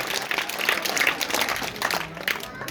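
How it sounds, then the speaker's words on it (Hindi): Audience applause at a Dr. Bhimrao Ambedkar birth anniversary event, sustained clapping from a crowd for nearly three seconds, steady and fairly loud with no pauses. "एक बार पुनः जोर से इनकी ताली बजा करके आप अभिवादन करें।"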